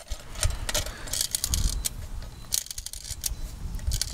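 A toy stealth zeppelin is wound up by hand, giving close, irregular clicking and rattling bursts with short pauses between them.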